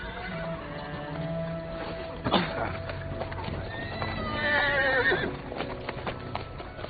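A horse whinnies loudly with a rising, shaking neigh while hooves clip-clop nearby, set over a steady ambient bed with a soft background tone.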